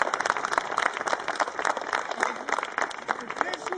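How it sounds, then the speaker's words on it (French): An audience applauds the municipal workers of Mouscron at a night-time outdoor event, a dense, steady patter of many hands clapping close by, with crowd noise mixed in throughout. "On les applaudit déjà très fort"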